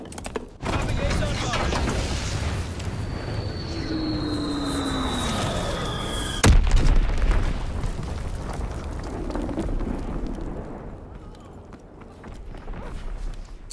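A falling whistle from an Azon bomb dropped in Call of Duty WW2 ends in a sudden, loud explosion burst, followed by rumbling debris over steady game background noise and voices.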